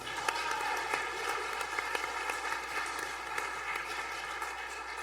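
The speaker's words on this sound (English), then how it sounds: "Give her a round of applause." Applause from a church congregation at the close of a Lenten worship service, a dense steady patter of many hands clapping continuously, fairly even in loudness throughout with no pauses.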